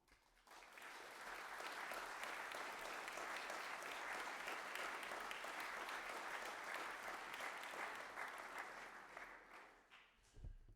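An audience at a school athletics colours gathering claps for nominated athletes, a dense, steady round of applause that swells quickly, holds for several seconds, then tapers off.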